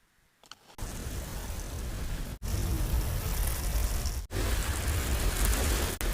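Heavy rain pours in a dense, steady hiss, broken by a few abrupt cuts, with a low rumble underneath.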